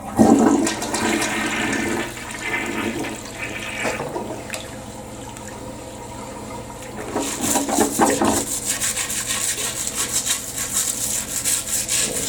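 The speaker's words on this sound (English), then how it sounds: "I'm going to flush it." A household toilet flushes nearby during bowl cleaning with Lime Away or The Works lime and rust remover, a loud rushing gush that swells, eases briefly, then surges again with gurgling water until the end.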